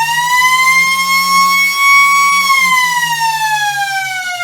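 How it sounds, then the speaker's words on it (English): A long, loud sports ground siren at a football match wails at a steady pitch, then slowly drops toward the end, rich in harmonics, with a low rumble underneath. "the siren just attempted to go"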